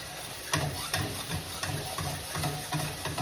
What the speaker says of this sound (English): I'm going to let her come to a crisp boil